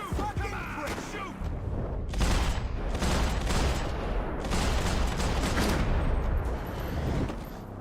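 Gunfire in the video game Max Payne 3: loud, sustained bursts of rapid shots and heavy booms packed together over several seconds, with brief lulls between volleys.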